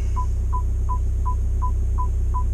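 Parking sensor on a BMW E91 touring giving a steady series of seven short, evenly spaced beeps over a low constant hum inside the car.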